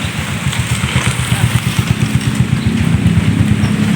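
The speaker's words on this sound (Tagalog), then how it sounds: "napakalakas ng ulan." Heavy downpour at a hut campsite, a dense steady roar of rain hammering down with a low rumbling pulse underneath, loud and continuous throughout.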